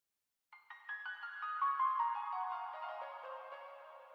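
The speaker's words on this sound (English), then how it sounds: "So then next I added like this little accent for the piano," A quick descending piano run across the black keys, a rapid cascade of struck notes tumbling downward as a short accent, then ringing out and sustaining as it slowly decays, played alone.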